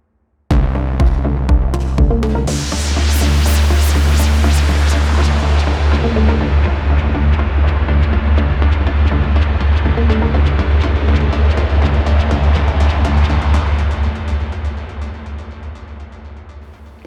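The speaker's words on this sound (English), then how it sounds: "all of the white noise sweeps I hear are just filtered noise with maybe a little bit of reverb" A synthesized white noise sweep crashes in and slowly filters downward, layered over a sustained low throbbing tone before fading out near the end.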